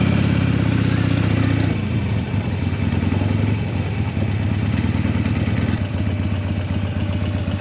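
Motorcycles idle and rumble close by at a busy bike ride gathering, a loud steady engine drone with clattering as bikes arrive and park, one engine dropping away early on.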